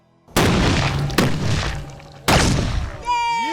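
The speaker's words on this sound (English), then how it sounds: "Fire in the hole! This is Swedish cannon in 3, 2, 1." Three loud, booming shots from a Swedish-style leather cannon in quick succession, each a sharp blast with a rumbling tail, followed by a brief rising whistle at the end.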